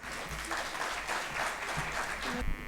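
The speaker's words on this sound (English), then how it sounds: "A big round of applause for them, please." Audience applause for dignitaries at a cultural awards ceremony in Imphal, 2019, a steady roomful of clapping that swells and holds, heard alone.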